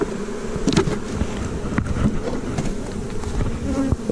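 Honey bees buzz around an open hive with sparse colony, a continuous close droning hum with irregular louder passes from individual bees, no voices.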